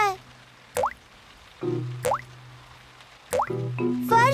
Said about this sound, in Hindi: बारिश का पानी घर के अंदर आ रहा है।